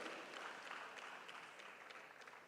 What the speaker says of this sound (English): Oh, let's give her a round of applause